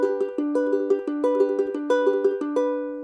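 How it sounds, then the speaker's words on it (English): A high G ukulele plays a Travis picking pattern, with plucked notes alternating in a steady, even rhythm as the chord shifts every half second or so; close and clear, with no voice. "Okay, then the third one I do is called Travis picking."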